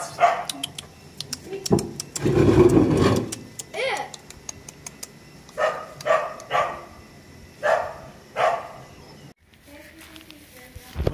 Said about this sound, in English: You don't like neighbor's dog they have here.